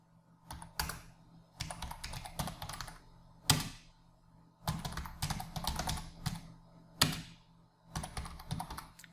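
A computer keyboard is typed on in quick bursts of clicking keystrokes, entering Tamil text in Photoshop. Several flurries are separated by short pauses, close and fairly loud, with no talking.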